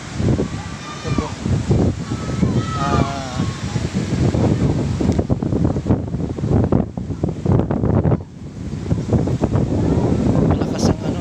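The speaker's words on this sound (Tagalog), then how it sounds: "Napakalakas ng alon" Strong sea waves near a coastal house, a continuous roar of surf mixed with heavy wind buffeting the microphone while someone talks over it.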